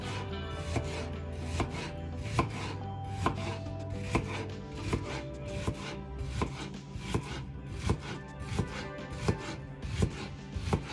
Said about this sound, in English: My husband does not prefer large chunks of cucumber, so I cut them in half, and then we'll chop them up